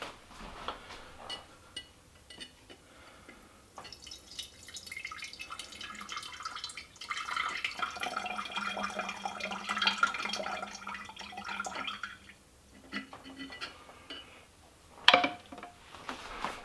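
Limoncello mixture dripping and trickling through a kitchen sieve, a steady liquid patter that builds in the middle and then thins, heard close with no talking.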